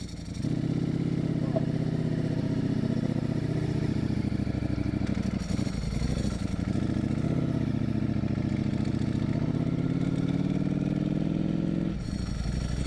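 A Ducati Streetfighter V4 SP with an open exhaust idles and revs steadily with a deep, loud rumble close by, dipping briefly around the middle and again near the end.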